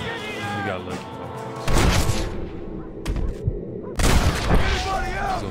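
Gunfire in the video game Red Dead Redemption, loud bursts of shots with booming reports alongside in-game sounds and a player's voice talking over the action.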